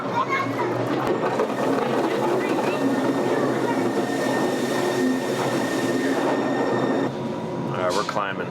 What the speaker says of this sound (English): This is kind of weird to be on a train going up a mountain.